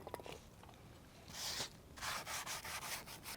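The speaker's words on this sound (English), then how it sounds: "You can also take a Scotch-Brite pad, a little bit of penetrating lubricant, and do the same thing." A Scotch-Brite pad with a little penetrating lubricant scrubbing a bike frame, giving soft gritty rubbing strokes, faint and close, growing into a quick run of rhythmic scrapes toward the end.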